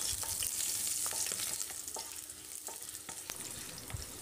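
Chopped ginger and slit green chilies sauté in oil in a pan, a continuous soft sizzle broken by light scraping stirs, close and fairly quiet, with no voices.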